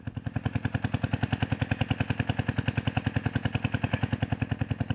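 A Kubota 5-horsepower engine chugs steadily, its rapid even thumping firing beats close and unbroken, running on and on without faltering.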